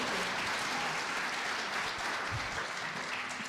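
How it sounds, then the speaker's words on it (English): Steady applause from the audience at a mayoral debate in Edmond, a dense even wash of many hands clapping that holds at constant loudness throughout, with no voices over it. "Give them all a round of applause."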